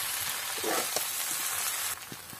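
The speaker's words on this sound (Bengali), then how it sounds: "এভাবে আমি 5 থেকে 6 মিনিট কষিয়ে নেব।" Potatoes sizzle in hot oil while being sautéed for a vegetarian aloo dum, a dense, even frying hiss with a few soft stirring knocks, close and steady, dropping slightly toward the end.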